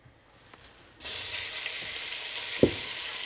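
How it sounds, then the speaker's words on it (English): Beef hits shimmering hot oil with a sudden loud sizzle that keeps crackling steadily as it sears, with a brief clunk partway through; no talking. "my oil is shimmering, so I'm gonna get half of my beef in there"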